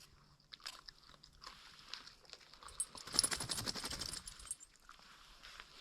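Someone eats a bowl of homemade noodles up close, with quiet slurps and then a flurry of crisp bites and chewing that fades back to near silence.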